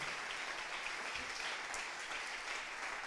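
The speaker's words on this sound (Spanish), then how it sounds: "Alguien dele un aplauso al Señor. Vamos, más fuerte, más fuerte." Church congregation applauding the Lord during a Spanish-language sermon, a steady dense wash of clapping from many hands, fairly distant and soft, with no talking.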